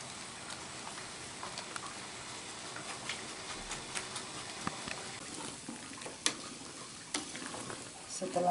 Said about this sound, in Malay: Tunggu sampai santan mendidih.